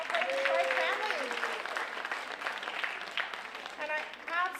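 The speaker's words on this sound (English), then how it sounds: "Yes, give yourselves a round of applause" First-year convocation audience clapping, a broad crowd applause that starts fairly strong and gradually thins, with cheers and voices mixed in over the clapping.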